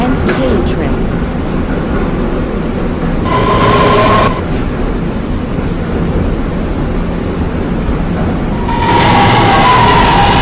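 R211A subway car on a B train running between stations, a loud steady rumble of wheels and motors with two brief bursts of brighter hiss or squeal, and a recorded announcement voice in the background.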